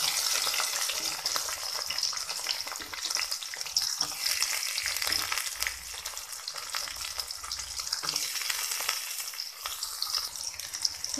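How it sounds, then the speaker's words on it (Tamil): Chopped onions sauté in a pan with fennel seeds and green chilies, giving a dense, steady sizzle with soft stirring scrapes that stays close and even throughout, with no talking. "வெங்காயம் நல்லா வதங்கிக்கிட்டு இருக்கு."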